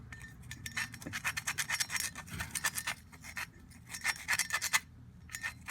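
Small hook screwdriver scratching carbon deposits from an EGR passage on a 2006 Honda Civic, giving rapid bursts of close, dry rasping in uneven strokes with brief pauses between them.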